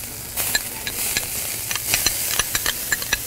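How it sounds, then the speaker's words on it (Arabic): Minced onion frying in hot corn oil in a pan, a close bright sizzle broken by frequent crackling pops and stirring clicks, with no speech over it. "بصل مفروم على زيت"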